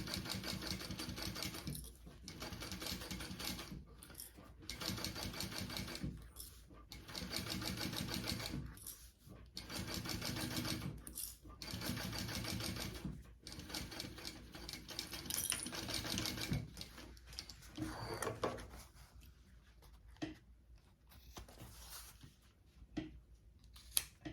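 Sewing machine stitching trim onto a crossbody bag, repeated bursts of steady mechanical stitching separated by short pauses, close and fairly loud throughout with no talk.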